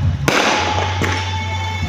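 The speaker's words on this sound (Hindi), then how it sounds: "आतिशबाजी चल रही है।" Loud fireworks bursting amid a constant crowd roar, with two sharp booms standing out against the continuous noisy din.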